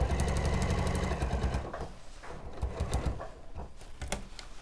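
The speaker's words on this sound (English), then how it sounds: "So I've sewn that bauble down" A sewing machine rapidly stitches a bauble onto Liberty Christmas fabric, its steady mechanical whirr running loud and close for nearly two seconds, then giving way to quieter intermittent short stitching bursts.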